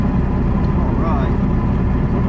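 A MerCruiser boat engine idles with a steady low rumble close by, and someone talks over it.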